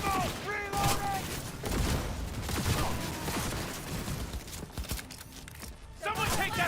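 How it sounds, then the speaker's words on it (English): Close-range gunfire in the Cyberpunk video game, dense bursts of shots and impacts running throughout, loud and near, with game voices and effects layered over the shooting. "Firing at close range. Out of ammo. Reloading."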